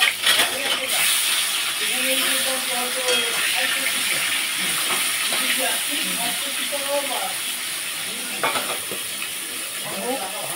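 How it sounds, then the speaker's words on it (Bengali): Fish fries in a pan with an even, moderately loud sizzling hiss, and soft indistinct voices surface now and then under the frying. "আর এখানে মাছটা ভাজা চলছে।"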